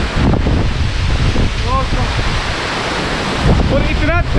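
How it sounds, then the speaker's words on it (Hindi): Fast-flowing mountain water near a cave in Manali, a loud continuous rushing roar with wind buffeting the microphone and a few faint bird chirps toward the end. "इतना तेज पानी का फ्लो है ना"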